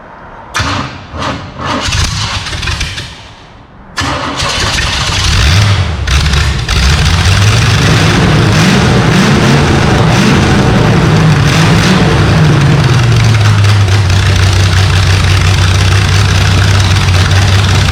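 A carbureted engine that has sat dry cranks in a few sharp bursts, then catches and settles into a loud, steady, rough-edged idle with a low droning hum. It is close and continuous, with no voices.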